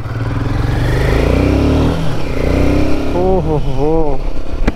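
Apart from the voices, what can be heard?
Royal Enfield Himalayan 450 motorcycle engine riding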